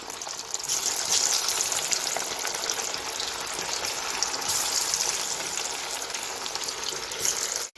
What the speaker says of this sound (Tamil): மீன் சில்லி பார்த்தீங்கன்னா ஆயிலில் போட்டாச்சு